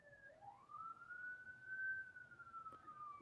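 A single police siren wails outside, a faint rising then long sustained tone drifting slightly in pitch, distant and quiet over low background hum.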